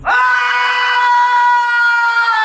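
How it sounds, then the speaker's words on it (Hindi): A single agonized, piercing scream from a man, loud and sustained for over two seconds with a strained harmonic tone, set in a partition-era radio drama at a border crossing before sunrise. "एक गगन भेदी चीख निकली।"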